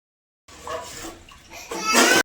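Water poured into a cooking pot for pumpkin rice, a short splashing gush that starts softly and grows louder toward the end.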